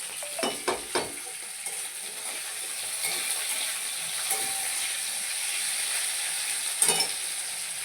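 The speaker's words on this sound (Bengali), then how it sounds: "এবার দেখো আলুটা লাল লাল করে ভাজা হয়ে গেছে" Potato pieces frying in a pan with spices for a Bengali vegetable dish: a steady soft sizzle and hiss, with a few sharp stirring scrapes near the start and one near the end.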